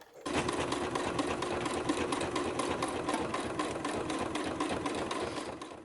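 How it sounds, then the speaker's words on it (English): A sewing machine runs continuously, stitching close to the edge of fabric for a bucket tote with a recessed zipper. It makes a steady, rapid, rhythmic mechanical whir with no voices. "I have also moved my needle over to the right so that I can stitch closer to the edge"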